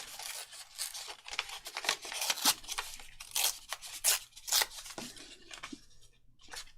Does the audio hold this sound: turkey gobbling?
no